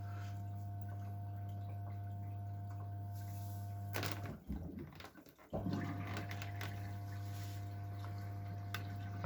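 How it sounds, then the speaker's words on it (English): Washing machine water inlet filling on a 90°C cotton cycle at somewhat low water pressure, giving a loud steady buzzing hum. Partway through it briefly cuts out with rustling and clatter, then the same buzzing resumes. "I kind of like how buzzy that inlet is."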